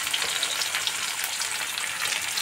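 Chopped onion and green chilli crackle in hot oil with black and white cumin. The sizzle is close, dense and constant, with no speech.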